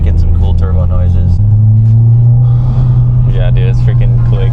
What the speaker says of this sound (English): this car is already making some cool turbo noises